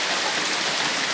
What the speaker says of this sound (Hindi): जो गांव में आज बारिश हो रहा है।